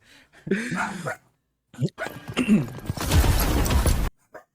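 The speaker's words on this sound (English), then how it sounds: "My dogs are going wild." Several dogs barking and yipping excitedly indoors, loud bursts in quick succession close to the microphone, with a voice talking over and between the barks.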